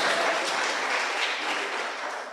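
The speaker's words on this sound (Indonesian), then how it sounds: "tepuk tangan dulu yang meriah begitu" Congregation at a church sermon breaks into lively applause, a dense sustained wash of many hands clapping at steady loudness, tapering slightly toward the end.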